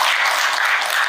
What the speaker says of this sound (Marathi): संजू भाऊसाठी आपण जोरदार टाळ्या